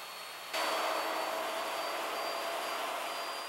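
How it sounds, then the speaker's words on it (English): A router on a Leigh joinery jig cutting a wood tenon switches on after a short moment of quiet and then holds a loud, steady, close whining roar. "You can now move the table to the left position and route the left tenon."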